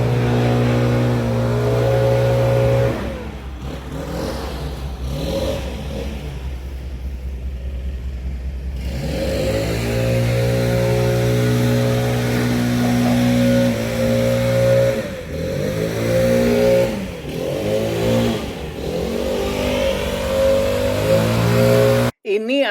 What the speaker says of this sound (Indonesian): Ini adalah suara mesin untuk menyapu halaman.